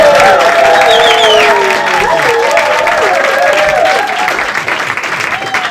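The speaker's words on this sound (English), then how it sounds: "would you start the clapping?" Comedy club audience in London applauding and cheering a stand-up comedian, a loud, dense wash of clapping with whoops and shouts over it, steady throughout and easing slightly near the end.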